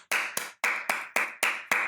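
A single person claps seven times in a steady, slightly uneven rhythm, each sharp slap close and loud with brief decay, and no talk over it.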